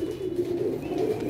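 A pair of black pigeons coos in a continuous low, throaty rolling tone, close and steady, with no voices.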